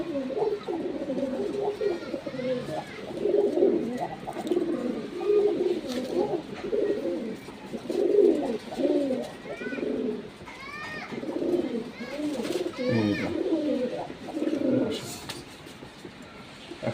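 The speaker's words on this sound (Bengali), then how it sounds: "খুব বড় বিটারের কবুতর।" Pigeons cooing nearby in a loft, repeated low rolling coos layered over one another, with someone talking steadily over them and some higher calls and clatter in the background.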